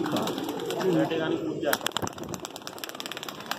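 Kaat pigeons coo as they are released, a low warbling call followed by a burst of flapping wings and scattered clicks, with people talking nearby.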